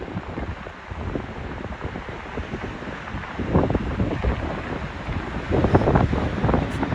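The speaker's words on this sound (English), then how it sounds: "Churning water down there." Wind buffets the microphone on a clifftop while sea waves surge and churn below the cliffs, swelling louder toward the end in a continuous, rough roar.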